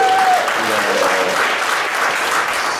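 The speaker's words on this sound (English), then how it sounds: "a round of applause again for all the performers again today" Concert audience applauds the performers, a loud, sustained crowd of clapping hands close by, with a faint voice or tone briefly cutting through at the start.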